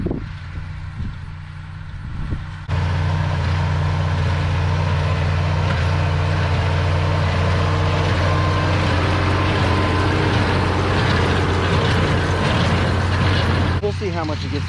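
An Oliver 1650 tractor in 4th gear pulling a square baler through a hay field, a steady loud engine drone with a deep low hum that holds evenly throughout.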